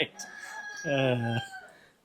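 A rooster in a farm chicken pen lets out one full, strong crow midway through, with fainter bird calls around it.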